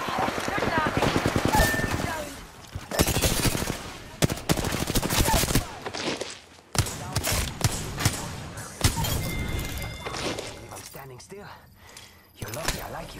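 Gunfire in the video game Apex Legends, bursts of rapid automatic shots and sharp impacts scattered across the clip, loud and close, mixed under voices talking over it.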